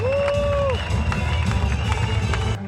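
A crowd at the Spartan World Championships awards ceremony applauds and cheers for a South African world champion, with a continuous wash of clapping and shouts while an announcer's amplified voice rings out at the start.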